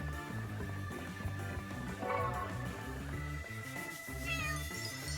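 A cat meows in the video game Chained Echoes, set over steady game music with a short high cry rising near the end.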